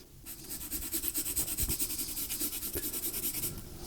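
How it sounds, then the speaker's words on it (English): Quick, rhythmic scratching of a colored pencil hatching near-vertical lines across textured paper, close and quiet, stroke after stroke at a steady pace. "I'm hatching with these vertical lines, almost vertical,"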